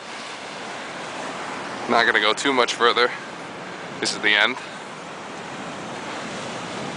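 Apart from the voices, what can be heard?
ocean waves breaking at Giant's Causeway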